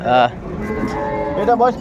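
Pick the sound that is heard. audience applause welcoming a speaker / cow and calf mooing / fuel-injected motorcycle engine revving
cow and calf mooing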